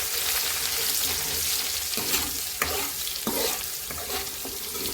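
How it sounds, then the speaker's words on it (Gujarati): Cumin seeds and ginger paste sautéing in hot oil in a pan, a steady close sizzle and crackle with occasional stirring scrapes and brief louder pops, no voices. "જીરું તથા આદુની પેસ્ટ ઉમેરી લઈશું અને તેને સાંતળી લઈશું"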